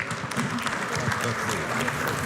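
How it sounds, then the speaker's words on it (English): Steady applause from a conference audience at the World Arabian Horse Racing Forum in Madrid, a dense roomful of clapping that carries evenly from start to end. "big round of applause for Pat Buckley and his guest, Patrick"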